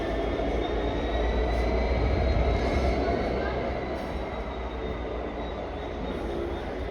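A Class 66 diesel locomotive hauls the Royal Scotsman train slowly past at Aviemore on the Highland Main Line, giving a steady, close rolling rumble of wheels and engine with faint squeal, under occasional talk.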